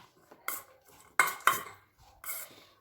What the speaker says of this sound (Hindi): तो अब हम शिमला मिर्च और गाजर को भी प्याज के साथ मिला लेंगे